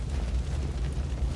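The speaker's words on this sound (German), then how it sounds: "Das war einfach der Explosion Loader. Der hat mich erwischt" Explosion from an Explosion Loader enemy in the video game Tiny Tina, a loud, sustained rumbling blast with no clear attack, filling the whole moment.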